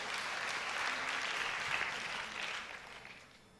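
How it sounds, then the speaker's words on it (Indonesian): Congregation at a church worship service applauding, a steady dense wash of clapping that holds evenly and then fades toward the end. "berikan tepuk tangan Bapak Ibu sekalian"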